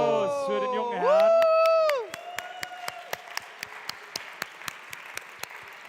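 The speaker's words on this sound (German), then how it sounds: "Ja, ein Applaus für den jungen Herrn." Applause at a conference stage event: after a drawn-out spoken call, sparse, evenly spaced claps follow, thin and moderately distant rather than a full roar.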